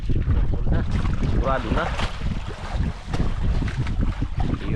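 Gusty wind buffets loudly against the microphone over rushing water and a boat's hull, with brief voices speaking beneath the noise.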